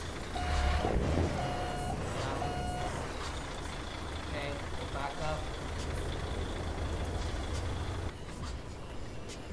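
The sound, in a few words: custom truck reversing beeps in Euro Truck Simulator 2 video game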